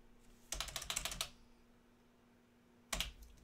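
Close, quiet clatter on a computer keyboard: a quick burst of keystrokes, a pause of more than a second, then another short run of clicks, with no talking.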